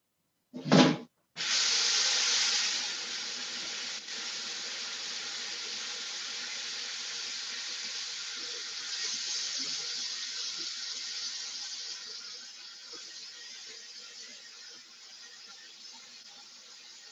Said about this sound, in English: And now 1 1/3 of warm water.